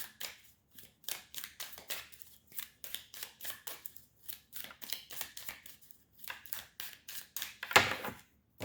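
A deck of tarot cards is cut and drawn by hand, making a rapid series of crisp, close snapping and flicking sounds in an irregular rhythm. One louder slap of cards comes near the end.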